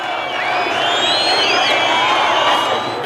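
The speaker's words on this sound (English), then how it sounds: "This was the size of the crowd at Enqilab Square" A large protest crowd at Enqilab Square in Iran, a dense continuous roar of many voices with scattered whoops and shouts rising above it, loud and sustained throughout.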